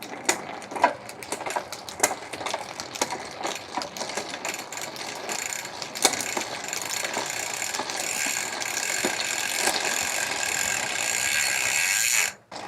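A SRAM XPLR gravel bicycle cassette and rear derailleur shifting up through the gears makes a run of sharp mechanical clicks and ratcheting freehub ticks. The clicks sit close to the microphone and end abruptly, with no talking.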